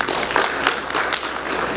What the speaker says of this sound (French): Je crois que cela mérite des applaudissements